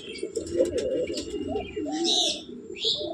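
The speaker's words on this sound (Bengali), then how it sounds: "এই যে পদ্মুদ্দার, এগুলো গিরিবাজ" Giribaj pigeons coo in low, rolling murmurs, joined by a few sharper chirps from other birds, close by and steady throughout.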